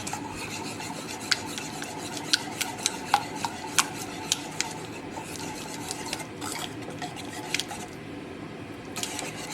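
Pizza ingredients being mixed in a bowl for a homemade sourdough pizza, heard as a steady scraping, rubbing stir with a few sharp clicks of utensil against the bowl, close and alone.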